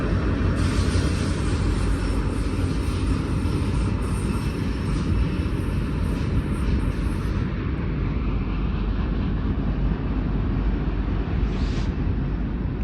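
Long Union Pacific manifest freight train with EMD SD70-series locomotives, including Canadian National units, climbing the steep grade to Cajon Pass, a continuous loud rumbling engine drone with a whining tone that fades partway through.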